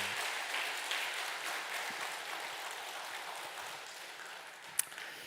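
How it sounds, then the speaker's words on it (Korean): Applause from a church congregation at a Sunday service, a steady, soft, broadband patter of many hands clapping that holds throughout with no talking over it. "박수."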